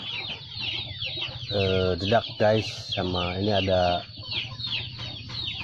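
Bangkok chickens cluck and chatter at feeding time as they gather over leftover rice mixed with bran and cassava leaves, a busy nearby flock with someone talking over them.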